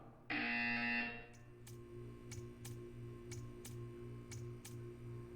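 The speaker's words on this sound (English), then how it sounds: "You will hear a buzzer." An electronic buzzer from the video game Portal 2 sounds once in a bright, loud burst, followed by a steady series of sharp ticking pulses over a low mechanical hum.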